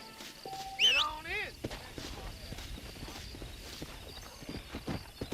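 Saddled horse's hoofsteps in a video game, soft repeated clip-clop footfalls under game sounds, with a person talking and a brief whistly tone near the start.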